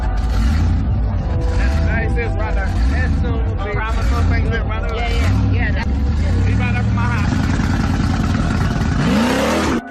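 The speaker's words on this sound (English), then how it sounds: "I guess the driver was so excited being the center of attention that he didn't check his mirrors before flying into reverse" At a car rally, a car's engine revs and roars in fast reverse close by, amid a noisy crowd with excited voices and shouting all the way through.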